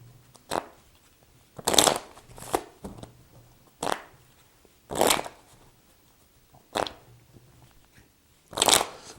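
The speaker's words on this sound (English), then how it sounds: "you're going to see how simple that shuffle is to falsify" Playing cards being false-shuffled by a cheat in small groups, the four aces among them: about seven crisp riffling bursts at uneven intervals, close and fairly loud, with near silence between them.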